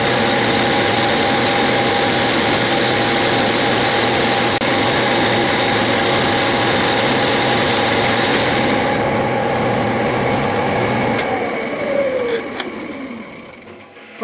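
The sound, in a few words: South Bend metal lathe making a finishing pass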